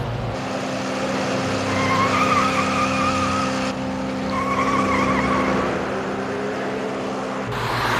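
A speeding car races along a highway past the emergency strip, its engine whine rising and falling as it passes close by and keeps roaring on for several seconds.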